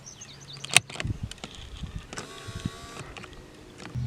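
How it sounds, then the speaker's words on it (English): A 1999 Pontiac Firebird's power side mirror adjusts in one brief motor whir near the middle, faint and close, surrounded by small interior clicks and handling noises. "The vehicle is also equipped with power mirrors."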